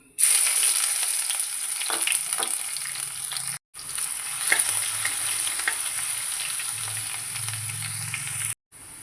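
Crushed ginger and garlic frying in hot oil with mustard seeds and fenugreek for a coconut-free mango fish curry, giving a loud, steady sizzle with stirring scrapes that breaks off briefly twice.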